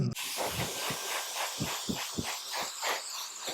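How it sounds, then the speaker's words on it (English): Repeated short hissing sprays from a pump bottle of sea salt hair spray, about a dozen quick spritzes in an uneven rhythm, close and clear. "Sea salt spray."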